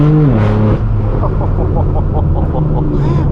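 A loud, straight-piped BMW M4 F82 at a Los Angeles car meet rumbles close by with a deep, droning exhaust note, a brief higher rev at the start, then a steady throaty idle-like roar with faint crackles.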